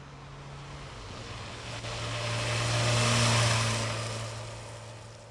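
A 2001 Honda CBR600F sports bike builds revs. Its fairly faint engine drone swells to a peak in the middle, with the pitch stepping up, then eases off again, with no talking over it.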